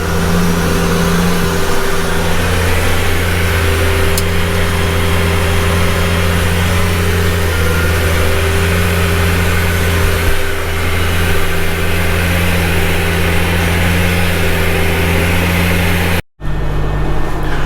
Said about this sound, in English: I'm just going to raise my tiller and I'm going to drive up it just with the tracks to pack it some